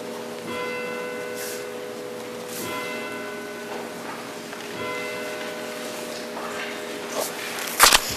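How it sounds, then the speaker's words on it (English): Church bells ring in repeated, evenly spaced peals with sustained ringing tones, moderately distant, followed by a brief sharp click near the end. "I'll wait for those bells to ring."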